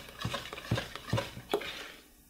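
An egg is stirred into okonomiyaki batter in a bowl, four soft rhythmic thuds and scrapes of a utensil, close and quiet, fading to silence at the end.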